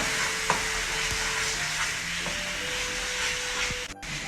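A loud, steady sizzle and hiss as a quarter cup of water is poured into boiling syrup in a hot pan for plum cake, with a few faint clinks of stirring.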